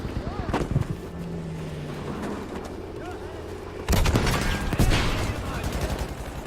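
Battlefield V combat with a tank nearby: a steady low rumble, some scattered gunfire, then a loud burst of shots and explosions partway through, dense and close, with a voice mixed in.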